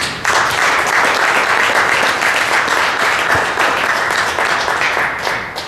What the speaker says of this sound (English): let's give a warm round of applause to Mr. Brian Enke.